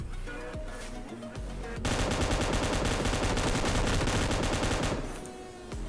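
Sustained automatic fire from an M249 light machine gun in the mobile shooter PUBG Mobile Lite, a loud rapid burst running for several seconds after scattered quieter shots, with no talking.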